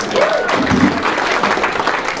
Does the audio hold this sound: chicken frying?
no